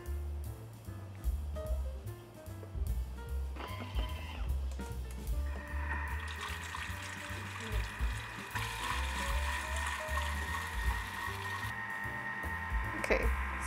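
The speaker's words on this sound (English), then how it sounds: "So just whisk." A Thermomix whisks about 200 grams of cream with a steady mechanical whir, its motor pitch rising partway through into a higher, strained hum amid wet churning and clicks; no voices.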